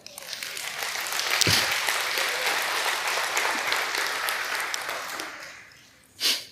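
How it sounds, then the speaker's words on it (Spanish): A church congregation applauds during a sermon, sustained steady clapping that swells, holds for several seconds and tapers off, ending in a brief louder thump. "Le damos un aplauso al Señor."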